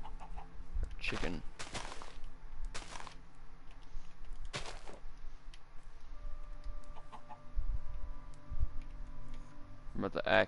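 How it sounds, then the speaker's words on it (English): Several chicken clucks from the Minecraft video game come in short bursts over a low game background hum, with a few other faint in-game sounds. "We're about to axe the chicken."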